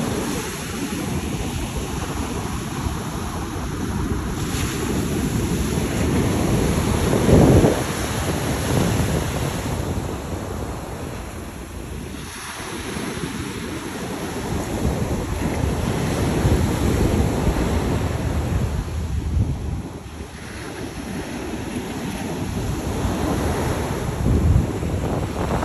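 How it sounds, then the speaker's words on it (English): Ocean waves wash and break on a beach in gusty wind, with rolling surges swelling and fading every few seconds under a steady windy roar on the microphone, with no talk. "Here is your daily beach view."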